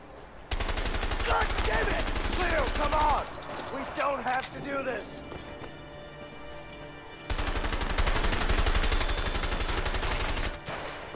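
Rapid automatic gunfire in the video game A Way Out, two long loud bursts of dense machine-gun shots separated by a quieter stretch where someone speaks over the game sound.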